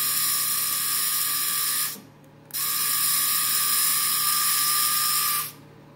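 A homemade card-dispenser mechanism inside an R5-D4 droid runs in two bursts of rapid, buzzing ratchet-like clicking from a small motor, separated by a brief pause. It is close and loud, with no talking.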